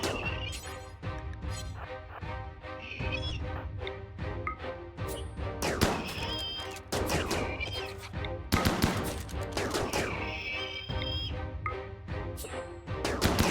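RimWorld colonists fire on a Mega Spider and targets behind it: repeated sharp shots and crashing impacts arrive in irregular bursts over steady tonal game music, loud and close throughout.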